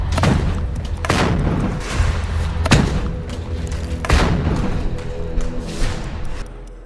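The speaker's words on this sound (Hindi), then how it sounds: "ताबड़तोड़ चलती ये गोलियां" Rapid gunfire in Gaza, loud overlapping bursts and heavy booming thuds in an irregular sequence, several sharp cracks standing out over a rumbling background.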